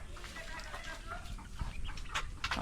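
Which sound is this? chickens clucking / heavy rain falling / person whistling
chickens clucking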